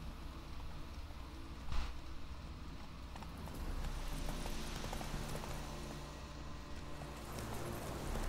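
Horse hooves clip-clop at a steady walking pace in The Witcher 3, fairly faint beneath a constant ambient outdoor bed, with one brief louder knock partway through.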